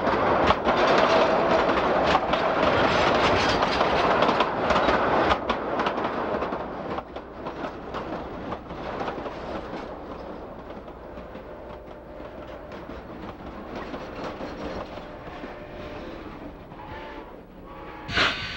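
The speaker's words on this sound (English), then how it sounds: "Just outside of Antonito, the train rounds a broad curve and heads through town." A steam train rolls steadily along the rails through Antonito with a continuous rumble and rhythmic clatter, loud at first and easing slightly as it passes, with a faint hiss.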